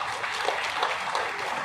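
An audience gives sustained applause at a press event, a dense, even wash of clapping with no break across the short stretch.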